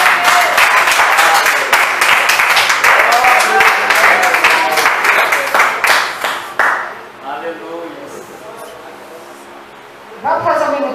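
Church congregation applauding, a dense burst of rapid clapping that fades after several seconds, followed by voices speaking and a brief swell at the end.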